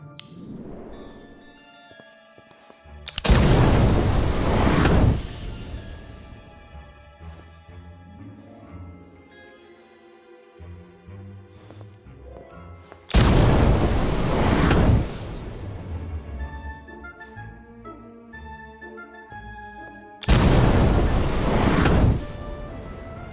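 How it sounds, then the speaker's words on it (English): Incendio fire spell cast beneath cauldrons in a video game, three loud roaring whooshes of flame, each lasting about two seconds, separated by quieter stretches of tinkling background music. "Try casting Incendio beneath each cauldron."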